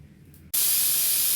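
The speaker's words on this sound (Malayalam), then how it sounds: "അങ്ങനെ നമ്മുടെ കടലക്കറി കുക്കറിൽ കിടന്നിട്ട് വിസിലടിക്കുന്നുണ്ട്." A pressure cooker of soaked chickpea curry lets out a loud, sudden steam release that snaps on after a quiet moment and holds as a steady, close hiss.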